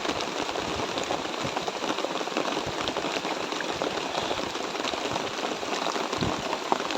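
Steady rain pours outdoors, a dense, even hiss that runs unbroken from start to finish with no voices over it.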